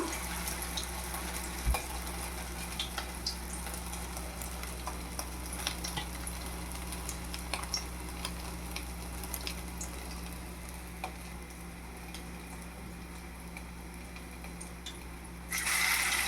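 Already cooked chicken fries in a little oil in a pan with a soft, continuous sizzle, punctuated by scattered clinks and scrapes of stirring, then a brief louder burst at the end.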